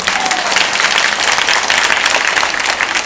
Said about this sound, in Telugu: ఉత్త మంతని వాళ్ళ చప్పట్లు కొట్టండి అమ్మా